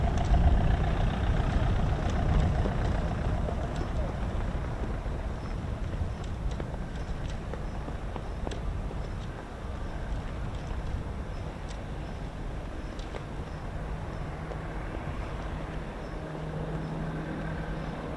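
Steady turboprop drone from an aircraft with a Pratt & Whitney PT6 reverse-flow engine at an air show arrival at RAF Fairford, continuous and moderately distant with a broadband roar and faint tonal whine.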